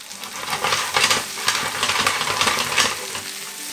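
Loud, close sizzling and crackling from potatoes frying in hot butter and oil, with stirring scrapes and swells of spitting noise throughout.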